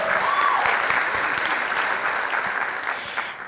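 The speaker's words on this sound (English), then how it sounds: "Another round of applause, please, for Francesca Hathaway and Cale Bishop." An audience at a formal school assembly applauds, a dense, loud wash of clapping that holds steady for several seconds and then slowly tapers.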